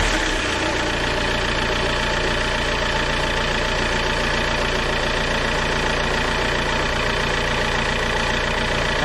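A car engine idles steadily and loudly up close, with an even low rumble and a slight knocking tick that continues unchanged throughout.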